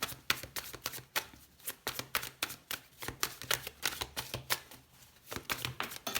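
Tarot cards are shuffled by hand, a quick run of crisp riffling and slapping bursts that comes in steady clusters for the whole stretch, close and fairly loud with no voice over it.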